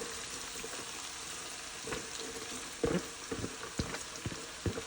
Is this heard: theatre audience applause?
no